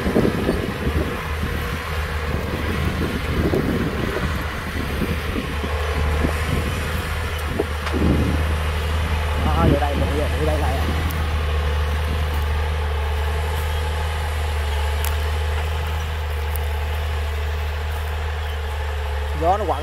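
Wind gusts buffet the microphone beside a John Deere 8270R tractor, a steady low idling engine drone running underneath the whole time with rougher rumbling bursts early on.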